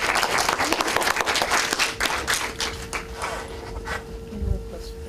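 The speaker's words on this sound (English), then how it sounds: "Big round of applause for all of them." An audience at a student short film showcase applauds, a dense wash of clapping that fades gradually over about five seconds.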